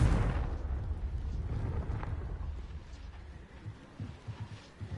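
A Confringo fire spell blasts in Hogwarts Legacy, a single loud explosive burst up front that rumbles and decays over several seconds, followed by scattered softer thuds.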